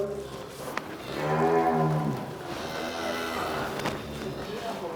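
Cattle moo on a farm during a farmers' day event, a single drawn-out low moo rising in the middle over ongoing background noise and faint distant voices.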